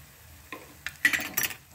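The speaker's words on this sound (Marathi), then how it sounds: "चांगलं परतून घेते मसाले." A spoon clinks and scrapes in a pan while turmeric, coriander powder and ginger garlic paste are sautéed, a few short metallic knocks and stirring strokes over quiet.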